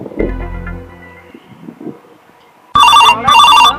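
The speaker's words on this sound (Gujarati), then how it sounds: "આ શેઠનો ફોન આવ્યો" An incoming call on a mobile phone in a Gujarati comedy sketch: after some quieter background noises, a loud electronic ringtone plays in two close bursts near the end.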